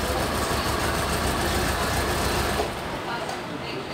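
Car engine with an ignition coil losing spark, idling with a steady, loud, rough drone that drops off sharply partway through as it is switched off, leaving quieter background.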